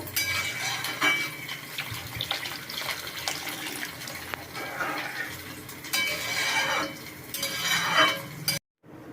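A generous amount of water goes into a pot for a thin katla fish curry with potato and pointed gourd, a close, steady splashing pour with some stirring clatter before an abrupt cut near the end.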